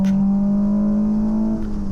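On a Silverstone track day, a car engine holds a strong, steady tone under throttle from inside the car, then eases off briefly near the end. It is loud and close, with no talking.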